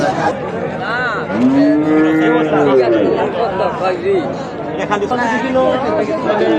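Cattle lowing at a busy Eid livestock market held on a school field, several drawn-out moos close by with people chatting and bargaining over them.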